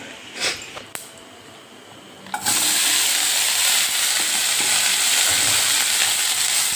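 Spices crackle and sizzle as they hit hot oil while fish is being cooked; a few soft knocks come first, then a loud, steady frying hiss fills the rest with no talk.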